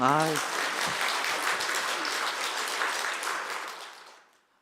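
A church congregation applauds the young accompanist during a Sunday service, a dense wash of clapping that follows a brief voice, holds steady for several seconds, then fades away.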